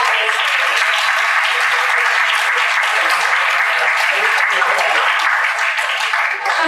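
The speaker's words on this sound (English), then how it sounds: "Let's give all of our pre-college and bridge students a round of applause." A large crowd at a student awards banquet applauds continuously, dense clapping filling the whole stretch at a steady, loud level.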